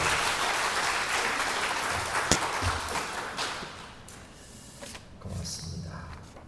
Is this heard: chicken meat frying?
no